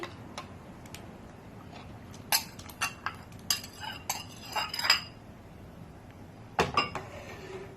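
A spoon clinks and scrapes against a pot as chicken is stirred into Thai hot and sour soup, giving quick bursts of metallic ticks with pauses in between and a final flurry, close and with no voices.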